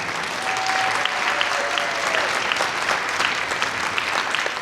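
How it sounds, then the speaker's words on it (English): An audience at a high school band concert claps steadily in a dense, sustained round of applause, filling the hall at even loudness from start to finish. "Give them a big round of applause"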